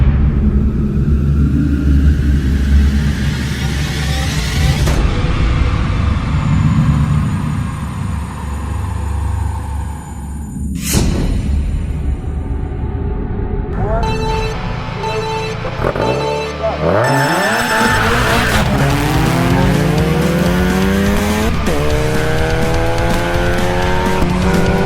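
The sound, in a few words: electric KTM dirt bike racing a car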